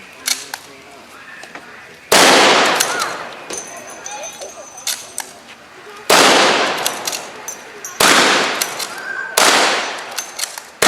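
A WW2 British rifle is fired outdoors at a WW2 weapons event in Lockport: four loud, sharp, echoing shots spaced a couple of seconds apart, with fainter pops and clatter between them.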